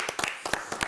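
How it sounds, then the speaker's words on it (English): A studio audience on an Australian TV comedy panel show claps after a game round: a short, sparse patter of separate hand claps, fairly close, with gaps between the claps. "one more round of applause for the lyrics round."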